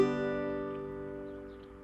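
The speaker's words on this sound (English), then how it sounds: "The other type of notes that you will see are called bum ditty notes," A banjo strum in the bum-ditty style sounds once with a bright attack, then its strings ring and fade gradually, with no other sound present.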